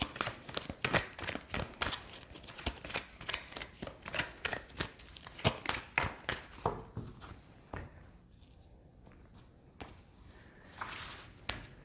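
Tarot cards being shuffled by hand during a zodiac reading, a quick, close run of crisp riffling slaps that later slows and softens into quieter card handling, with no speech.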